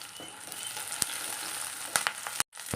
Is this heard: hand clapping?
no